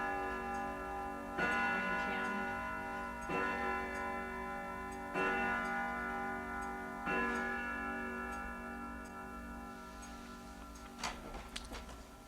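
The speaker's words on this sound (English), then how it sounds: "You should have stopped that clock." A loud clock ticks alone in a quiet room, each heavy beat landing roughly every two seconds with a lingering metallic ring.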